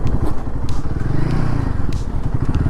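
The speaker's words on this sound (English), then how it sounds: "let's see how the motorcycle performs on this stretch of bad road" A Royal Enfield Guerrilla 450 motorcycle rides over a potholed stretch of bad road, a steady close engine rumble mixed with knocks and rattles from the rough surface, with no voices.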